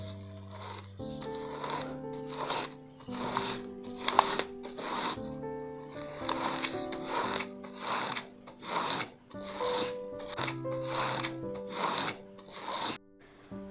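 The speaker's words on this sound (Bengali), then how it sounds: "এবার তালের আটিটা ঘষে নেব।" A palm fruit seed is rubbed against the upturned underside of a bamboo basket in a steady series of scratchy, rasping strokes, each stroke a short burst, close and fairly loud. Faint pitched background tones sit under the rubbing.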